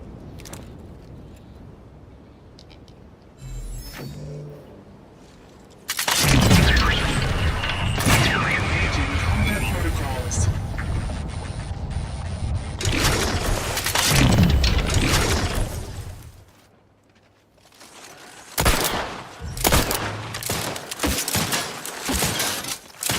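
Grenade blasts from the video game The Outer Worlds 2 burst in as loud, broadband booms and crackling debris over roughly ten seconds, followed by further sharp bangs, with someone talking over the game audio.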